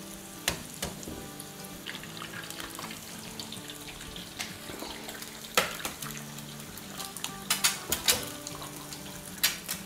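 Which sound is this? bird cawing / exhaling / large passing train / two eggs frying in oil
two eggs frying in oil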